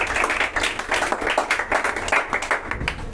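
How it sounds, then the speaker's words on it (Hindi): A classroom of students claps together, a dense, lively patter of many hands close by that carries steadily throughout, with faint voices mixed underneath. "तो एक तालियां बजाओ उसके लिए।"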